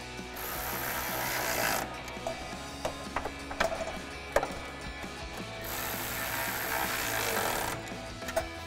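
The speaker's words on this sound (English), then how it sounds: "We'll grab our 10mm socket, Tighten our two smaller ones." A ratchet with a 10mm socket clicks rapidly while tightening bolts on a Westin step bar bracket on a Jeep Wrangler JL. It comes in two close bursts separated by quieter fiddling sounds, with no talk.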